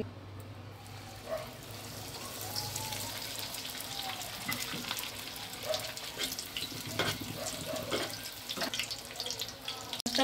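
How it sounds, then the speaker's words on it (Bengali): Chicken cutlets fry in hot oil over medium-low heat, giving a steady close sizzle with crackling bursts and occasional scraping from stirring throughout. "এবার চলুন ভাজা যাক। তেল বসিয়েছি, আমি হিটে দেবো।"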